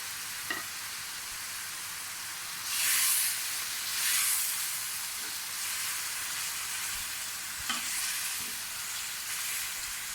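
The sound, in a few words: green chillies frying in a pan for aloo bhindi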